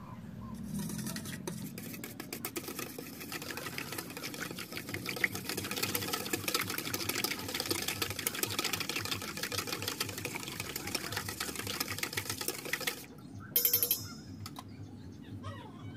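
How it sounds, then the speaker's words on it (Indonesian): Pandan chiffon cake batter mixed with vegetable oil is beaten with a whisk, making a quiet, continuous rapid scraping and clicking against the bowl, then a short pause and a few louder knocks near the end. "Dan setelah ini kalian aduk dengan menggunakan whisker sampai semua bahan tercampur merata."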